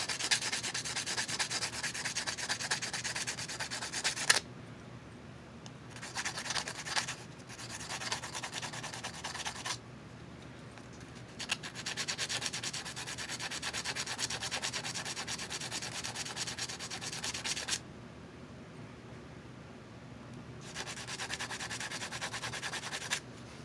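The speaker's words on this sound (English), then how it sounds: "we'll take our sandpaper here and we'll just rough our terminal up a little bit so we get a good solder flow onto it" Sandpaper rubbed back and forth over a metal electrical terminal, a close, steady scratchy rasp in several long bursts with short quiet pauses between them.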